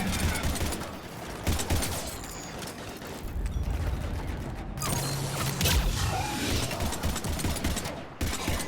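Rapid gunfire from a video game, Mass Effect 3, with a dense run of overlapping shots and impacts that carries on steadily throughout at close range.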